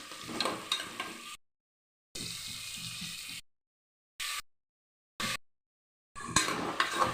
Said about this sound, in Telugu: టమాటా వేసుకొని ఆయిల్లో ఫ్రై ఫ్రై చేసుకోవాలి